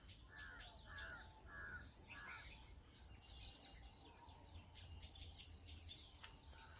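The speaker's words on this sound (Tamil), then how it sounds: "இந்த குருவி கிளி குருவி எல்லா சவுண்டும் அப்படியே கேட்குங்க" Dense chorus of birds calling in a forest near a temple in the Western Ghats, with repeated chirps and caw-like calls over a steady high insect drone, moderately near and without talk.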